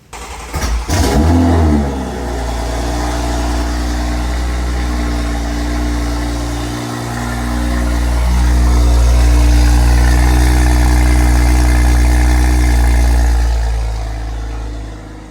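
A Toyota Supra engine starts with a brief crank, then settles into a loud, steady low rumble while warming up, rising slightly in pitch and volume midway before easing off.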